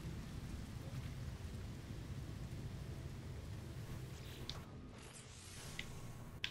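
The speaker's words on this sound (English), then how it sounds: "It's acid rain." Steady hiss of acid rain pours down in the No Man's Sky video game, with a low rumble of thunder rolling underneath and brief brighter crackles near the end; the rain sounds close and continuous.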